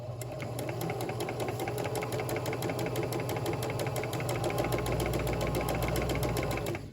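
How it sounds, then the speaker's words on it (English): A domestic sewing machine stitches a pillow seam along the 5/8 line, its needle running in a fast, steady mechanical rattle with a low motor hum, close and continuous from start to finish. "Take out my pin or any nearby pins, and I'll keep sewing."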